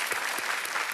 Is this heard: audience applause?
yes